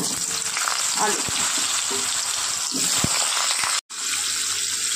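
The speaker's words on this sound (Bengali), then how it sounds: "প্রথমে আলুগুলো আমি একটু লাল করে ভেজে নেব" Potatoes frying in very hot oil tempered with cumin seeds, a loud continuous crackling sizzle with a few scraping stirs and a brief break near the end.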